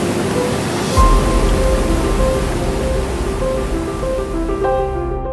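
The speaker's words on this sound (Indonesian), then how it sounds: "Air terjun ini sungguh luar biasa." Curug Malela waterfall roars as a dense, steady rush of falling water. The noise is loud and continuous throughout, with a faint tonal hum running underneath.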